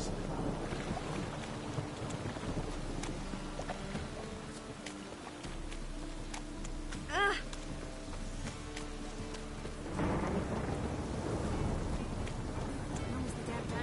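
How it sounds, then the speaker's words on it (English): Rain and thunder in The Witcher video game: a steady wash of rainfall with a low rumbling swell, a brief faint tonal chirp midway, then the downpour grows louder and denser toward the end; no clear talk. "It's raining again."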